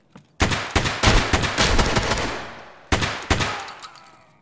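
Shotgun fire in Escape From Tarkov loaded with AP slugs: a quick volley of loud, close, booming shots, a brief pause, then two more heavy blasts with echoing tails.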